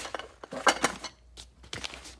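Trangia kettle and camping cookware clinking against a zip-up cooker case as it is packed, several short bright metallic knocks and rattles in quick bursts, close up with no talking.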